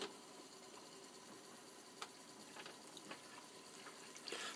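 Black and white film developer poured into a Jobo CPE-2 processor, a faint, steady liquid trickle with a few small splashes and drips, quiet and alone.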